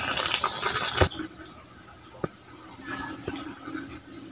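A small tap at a rural provincial outdoor cooking area runs water in a brief close gush, then quieter trickles with a few clinks.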